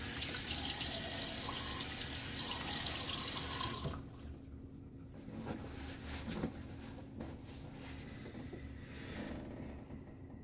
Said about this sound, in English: All right, water on my face.